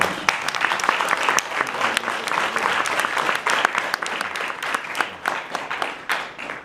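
Audience at a Frederick Douglass reenactment in a history museum breaks into sustained applause, dense crisp hand claps filling the room at steady strength and thinning slightly toward the end.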